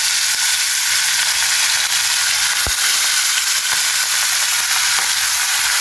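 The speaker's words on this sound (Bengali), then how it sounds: "এখন আমি মাছ দিয়ে দেবো আর সুন্দর করে মাছটাকে ভেজে নেবো" Fish fries in a hot wok, a loud, dense, continuous sizzle with spattering crackle throughout and one sharp tap near the middle, close by and without any talking.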